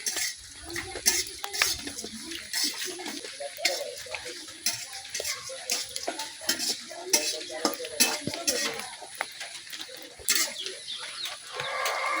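Dried fish (shutki) frying slowly over low heat in a pan, with steady soft sizzling and repeated scraping stir strokes and utensil clinks throughout.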